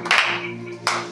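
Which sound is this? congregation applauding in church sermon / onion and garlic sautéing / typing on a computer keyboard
congregation applauding in church sermon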